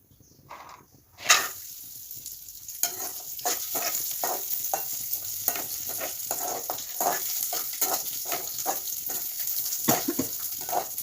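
Vermicelli being fried in a hot pan crackles and sizzles steadily after a sharp clatter. Rhythmic stirring scrapes repeat throughout at moderate volume, with no talking.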